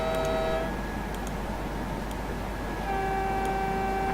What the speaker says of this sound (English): Horn sounds a bit dodgy.